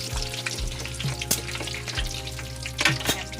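Pork pieces deep frying in hot oil for lechon kawali give off a loud, steady crackling sizzle with bursts of popping, close up and without talk.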